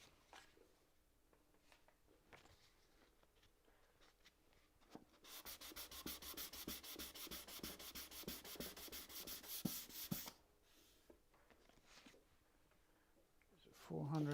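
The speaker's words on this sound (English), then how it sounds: "Bit of sandpaper just to tidy that up a little bit." Sandpaper rubs a wooden puzzle box in a workshop, making a close, rhythmic scratching that runs for about five seconds between quieter stretches where someone talks.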